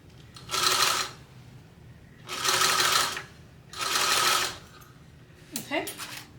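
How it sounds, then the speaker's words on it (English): Sewing machine running top stitches across fabric in three steady bursts of whirring stitching, each about a second long, separated by short pauses and followed by brief handling noise. Close and clear. "go get a top stitch sewn across that top at 1/8 of an inch seam allowance"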